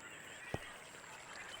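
A Minecraft chicken gives one short, soft cluck partway through, heard alone over a steady hiss of game ambience.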